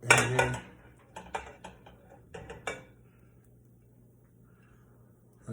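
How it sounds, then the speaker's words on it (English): A utensil stirs Monterey Jack cheese into homemade creamy mac and cheese in a pot, giving a cluster of close metallic clinks and scrapes early on, then a few more taps before fading to quiet. "I'm going to stir this until it melts"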